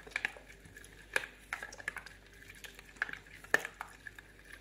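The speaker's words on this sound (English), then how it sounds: "And stir it in for a couple of minutes." Spoon stirring sweeteners into Indian mint sauce in a small bowl, with quick, irregular clinks and scrapes against the sides, close and fairly quiet with no talking.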